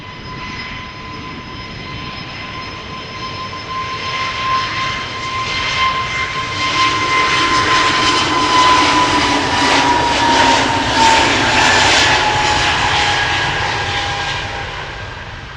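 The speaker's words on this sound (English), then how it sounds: "Next to depart EasyJet A320neo to Lickety Split in Croatia" An EasyJet Airbus A320neo takes off from Amsterdam Schiphol, its jet engines building from a steady whine with a distinct tonal hum into a broad roar that peaks and holds near the end.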